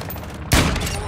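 A sniper rifle shot in the Call of Duty: Modern Warfare II game, with a single loud, sharp crack and a deep boom halfway through. Faint game ambience comes before it, and a lingering tail follows.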